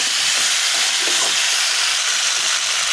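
Drumsticks (sajne danta) frying in a pan with pumpkin and potato, a loud steady broadband sizzle and hiss that runs continuously with faint stirring scrapes beneath.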